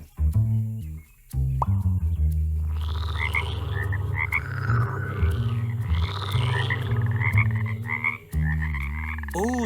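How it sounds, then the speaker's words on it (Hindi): Cartoon frogs croak in a chorus of repeated, bubbly calls over a tonal backdrop, with brief pauses between bursts, loud and close. "ओह, समझ गया, ये तो मेंढक हैं।"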